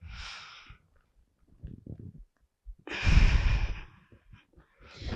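Deep belly breathing, with a long airy exhale, then quieter pauses and a loud, full inhale-exhale cycle close to the microphone, alone without talk.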